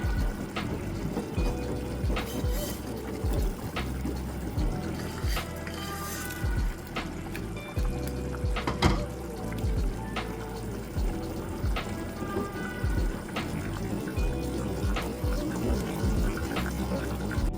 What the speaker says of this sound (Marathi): आता ह्यामध्ये घालूया जी आपण फोडणी तयार केलेली आहे ती घालूया.